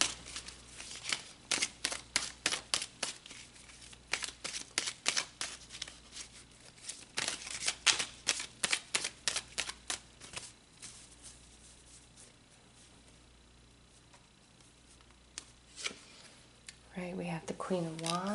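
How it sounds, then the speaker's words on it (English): Tarot cards being shuffled and pulled during a love reading, giving a run of crisp flicks, slaps and riffles, busiest in bursts near the start and middle and quieter toward the end, where a voice comes in. "So let's pull some more cards."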